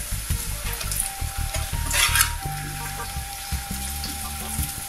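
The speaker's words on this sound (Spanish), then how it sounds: "ya calentamos nuestras tortillas y vamos a ponerles los hongos." Corn tortillas topped with mushrooms fry in a hot pan for quesadillas, a steady close sizzle broken by stirring scrapes and short bursts of running water, with no one talking.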